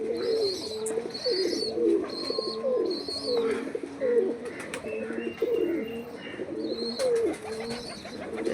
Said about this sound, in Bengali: ঘরের ভিতরেও আছে পায়রা।